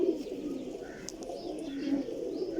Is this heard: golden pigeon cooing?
yes